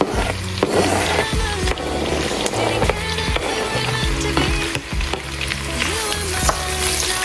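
Vegetables and spices for chicken gnocchi soup fry in a pot with a loud, continuous sizzle and repeated stirring clatter, close and dense throughout.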